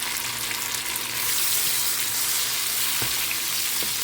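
Chopped tomato goes into onions frying in a pan for catfish curry, a steady close hiss of sizzling oil with a couple of soft knocks, no talk.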